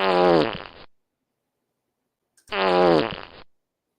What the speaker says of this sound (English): fart noises all up in here